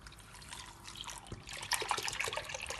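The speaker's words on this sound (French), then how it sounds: "je vais ajouter le lait entier liquide à la préparation là" Whole liquid milk being poured into a base recipe preparation, a steady trickling, splashing liquid stream that builds slightly in the second half, fairly quiet and close with no talk.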